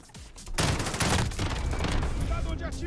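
Heavy automatic gunfire in the video game Call of Duty Modern Warfare: after a quieter start, a sudden dense volley of rapid shots and blasts fills the rest, loud and sustained, with a voice briefly speaking over it.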